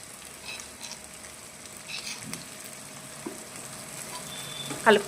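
Chicken fries in a pan with curry leaves and ground coriander and cumin being stirred in, giving a soft steady sizzle with faint scraping stirs nearby, ending in a brief louder clatter.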